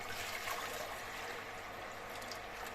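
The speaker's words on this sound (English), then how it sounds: "And I'm going to pour in some water." Water pours steadily into a pot sitting on a cooker, giving a continuous, close trickling rush with no pauses and no talking.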